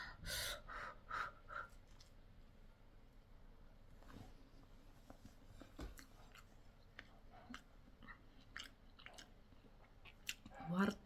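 Someone eats rice mixed with fenugreek seed curry, giving soft, close, irregular chewing and mouth sounds with breaths and brief vocal bursts between bites.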